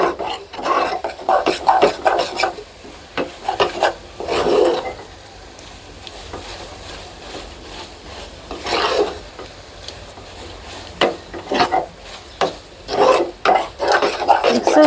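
Semolina is stirred in a pan for sweet laddu, a dry scraping rasp of the spoon coming in repeated bursts with quiet pauses between, close and alone without talk.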